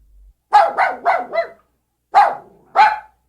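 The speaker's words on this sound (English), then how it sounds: "An old dog followed him." An old dog barks in a burst of four quick, loud woofs, then pauses before two more single barks, close and clear with no talk around them.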